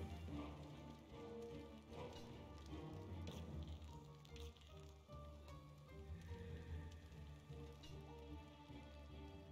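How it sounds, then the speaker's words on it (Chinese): Heavy rain in the game Don't Starve Together, a steady dense patter filling the whole stretch at an even level with no breaks. "大雨。"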